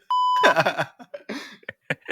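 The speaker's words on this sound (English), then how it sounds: "I'll beep it out." A single short, steady censor beep cuts in loud and clean near the start of a podcast episode, then conversational talk continues over the rest.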